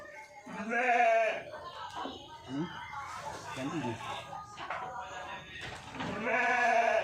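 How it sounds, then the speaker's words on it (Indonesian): Goats or sheep bleat on a livestock farm at feeding time: a loud, wavering bleat, softer calls and rustling, then another strong bleat near the end, with a person speaking briefly. "Kambing atau domba kalau sudah doyan makannya, kalau sudah rakus makannya seperti ini"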